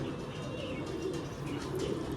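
Flying-breed pigeons coo in a close, continuous low chorus of soft throaty murmurs with faint higher chirps mixed in, heard alone without any talking.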